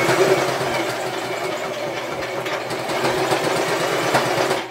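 A sewing machine stitches steadily around the edge of a placemat being made into a bag, a continuous close whirring hum with a fast mechanical rhythm.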